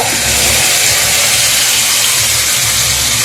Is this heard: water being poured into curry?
yes